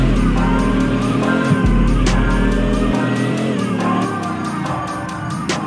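Engine of a car in a Roblox Vehicle Legends drag race in the video game, revving loud and steady, climbing in pitch through gear shifts with a brief cut near the start.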